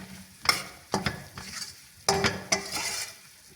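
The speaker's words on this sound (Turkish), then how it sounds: "Evet, unu da kavuralım kokusu çıkana kadar." Flour roasting in a pan for a celery dish, with scraping stirs and short sizzling bursts in an uneven rhythm, close and fairly quiet.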